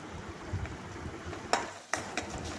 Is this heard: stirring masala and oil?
yes